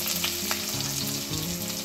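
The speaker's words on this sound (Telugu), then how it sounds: "ఇప్పుడు మనం ఆనియన్స్, పచ్చిమిర్చి, కరివేపాకు అన్నీ వేసేసుకుందాం ఇందులో." Onions, green chilies and curry leaves fry in hot oil for a curry with dry prawns and egg, a steady close sizzle with faint stirring, no voices.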